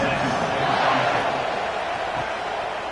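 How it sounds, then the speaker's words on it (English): Crowd buzz in a college football video game matchup of Texas vs Alabama, a dense, continuous roar of stadium noise, fairly loud, with a commentator's voice over it. "this crowd is buzzing after that last score"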